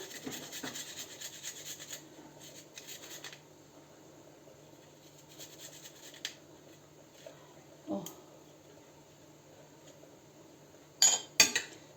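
A garlic clove is rubbed against a fine grater in soft, uneven scraping strokes, with a few louder metallic scrapes and clinks near the end.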